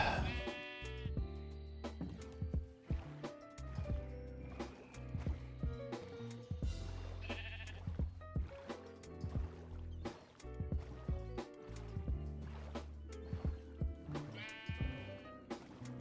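Sheep in the video game Minecraft bleat in a few short, clear calls spread across the stretch, heard over busy game sounds and splashing boat noises.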